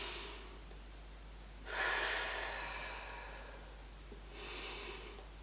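Deep breaths before a progesterone injection: two or three slow, close breaths, audible air rushing in and out, separated by quiet pauses.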